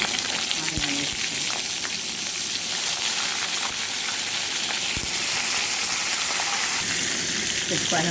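Eggplant frying in hot oil with cumin seeds and curry leaves gives a dense, loud, continuous sizzle with occasional sharp clicks and pops from stirring.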